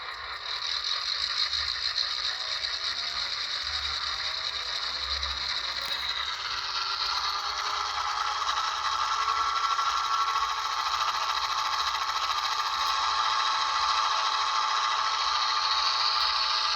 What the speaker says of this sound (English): the compressor actually rotates and mimics the same RPM rotation of the prime mover